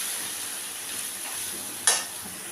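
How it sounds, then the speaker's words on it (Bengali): Dried lote fish (Bombay duck) sautéing in a pan makes a steady soft hiss, broken once by a brief sharp scrape of a stirring spoon partway through. "তো শুটকি মাছটাকে আমি খানিকটা কষিয়ে নিয়েছি"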